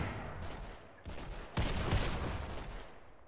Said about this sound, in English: I think this is an RPK.